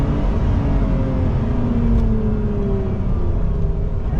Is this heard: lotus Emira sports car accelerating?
yes